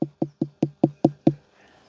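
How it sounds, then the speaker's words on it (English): A knuckle knocks on a ripe, hollow pumpkin seven times in a steady rhythm, each a deep, resonant thud like rapping on a wooden front door, followed by a short pause and one final knock. "if you knock on it and it sounds like knocking on someone's front door"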